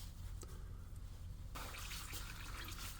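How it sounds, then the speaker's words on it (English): Engine oil draining out of a Can-Am Maverick X3 XRC Turbo R, a faint steady trickle of liquid under a low background hum, continuous and quiet. "I'm just going to let it drain while I change the oil filter."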